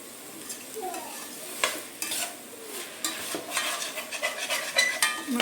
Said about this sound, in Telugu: దాన్ని కూడా వేసుకొని ఫ్రై చేస్తాం.